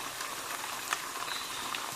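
Puffed rice frying in hot oil for chevado gives a soft, dense crackle and hiss like light rain, fairly quiet, with a few brief louder pops.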